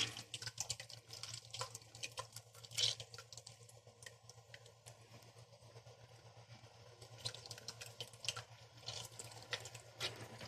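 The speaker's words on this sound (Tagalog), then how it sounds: "Nagpakulo na ako ng tubig para madali ng kumulo" Water heating toward a boil in a pot with lemon added, a faint, soft bubbling patter with small drips over a steady low hum from the stove.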